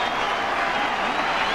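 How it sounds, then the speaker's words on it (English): Baseball stadium crowd at a night game cheering and applauding as a full count ends the inning, a dense, steady roar of clapping and shouting that fills the whole stretch without breaks. "The crowd have been up, roaring with each pitch"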